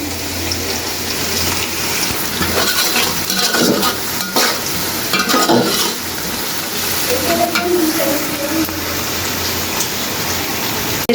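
Bottle gourd greens stir-fried with onion, green chilli and garlic sizzle continuously up close, broken by repeated scraping and stirring clatter in the pan.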